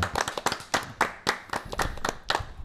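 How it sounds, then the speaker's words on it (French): A studio audience claps for a guest arriving on a French television set, a dense run of hand claps with sharp bursts standing out, close and fairly loud, with no speech over it. "on peut l'applaudir bien fort"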